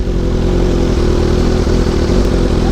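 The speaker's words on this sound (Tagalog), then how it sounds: "malakas talaga yung motor ma'am kasi malaki yung ano na ito" A big bike motorcycle engine with a large displacement, loud and close, giving a continuous throaty drone that stays steady throughout.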